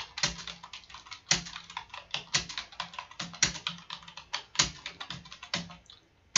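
Home row keys are typed on a computer keyboard in a steady, even rhythm, with crisp, close clicks that carry on for several seconds without a break.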